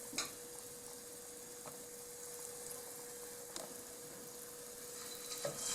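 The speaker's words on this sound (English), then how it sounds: "Fry them in a batch" Battered Chinese chicken balls frying in a batch in hot oil, giving a steady, quiet sizzle with a few soft clicks and taps.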